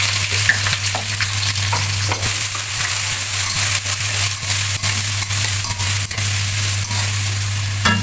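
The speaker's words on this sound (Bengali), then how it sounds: "এই পেঁয়াজগুলো ভেজে আমি একদম বেরেস্তা বানিয়ে নিব" Bay leaf, cardamom, cinnamon and sliced onions fry steadily in hot oil in a wok, a close, continuous sizzle with scattered stirring scrapes and clicks throughout, no voices.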